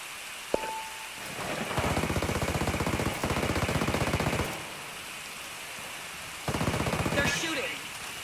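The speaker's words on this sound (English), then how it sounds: "They're shooting." Video game gunfire in bursts of rapid automatic fire, a long stretch of steady rattling shots, a pause, then another sustained burst, close and loud over a constant background hiss.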